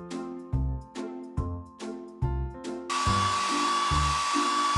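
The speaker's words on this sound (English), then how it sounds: "Tap the hair dryer to blow dry the pup's hair." Toy hair dryer blowing a pup's fur in a PAW Patrol mobile game, a steady whooshing hiss that starts partway in and holds over bouncy game music.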